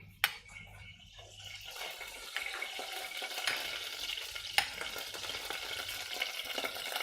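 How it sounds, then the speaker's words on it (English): Garlic and onion frying in a pan for Filipino chicken adobo, a steady close sizzle with occasional sharp clinks and stirring scrapes, no voices. "on the same pan, we will put the garlic and the onion"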